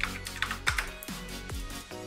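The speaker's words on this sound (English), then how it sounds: "Now press U on your keyboard" Several quick keystrokes on a computer keyboard, close and crisp, with a few separate clicks spread out in an uneven rhythm and no talking.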